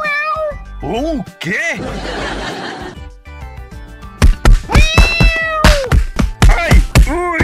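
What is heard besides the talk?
cat meowing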